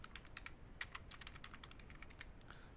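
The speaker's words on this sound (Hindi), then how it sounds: "यहाँ पे कुछ नंबर मैं टाइप कर लेता हूँ।" Numbers typed on a computer keyboard in a quiet room: a quick run of light, close key clicks over faint background hiss.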